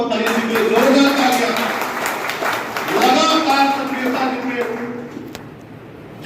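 An audience at a district meeting of a school managers' association in Chandauli breaks into applause, a crackle of many hands clapping mixed with a voice speaking loudly over it.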